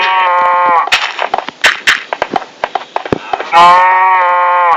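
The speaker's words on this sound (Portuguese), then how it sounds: "Uma vaca?" A cow on a farm moos twice, loud and close: one long harmonic low at the start and another at the end, with sharp clattering knocks and thumps in between.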